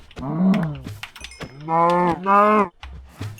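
Cows mooing in the Minecraft video game, several drawn-out bellowing moos in a row, loud and close, with brief gaps between them.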